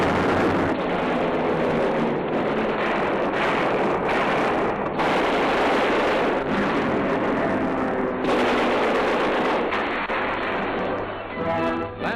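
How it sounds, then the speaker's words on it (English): Bombardment of Japanese airfields on Mindanao in 1944 wartime newsreel footage, a continuous roar of heavy explosions and artillery-like blasts, loud and dense with abrupt cuts between shots. "Japanese airfields on Mindanao and other land installations are plowed up by explosives."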